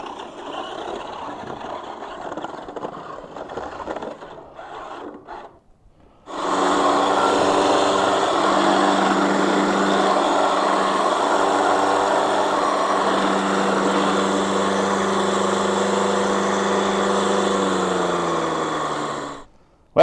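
A combat robot's spinning weapon, being readied for RoboGames, spins up with a sudden loud whine at about six seconds, holds a steady high-pitched drone with harmonic overtones for around thirteen seconds, then winds down, with no voices over it.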